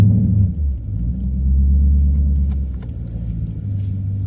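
Interior of a car driving on a rough road, a loud steady low engine and tyre rumble that swells and eases as the vehicle slows and turns.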